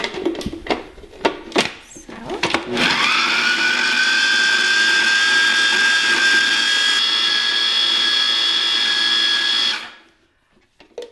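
A food processor blends raw caramel after a few short pulses, then runs in one loud, steady high whir for about seven seconds before spinning down to silence.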